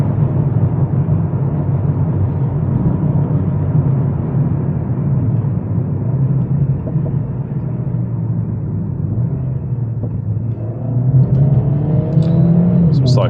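A 420 hp Mercedes CLA45s AMG driven in manual mode hums and rumbles steadily from inside the cabin, with a brief rise in engine tone near the end and someone talking over it.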